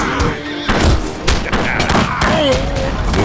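Gunfire from units in the video game Battle Realms II, a loud, dense fusillade of overlapping shots and thuds in a cluttered battle mix, with a brief voice line woven in.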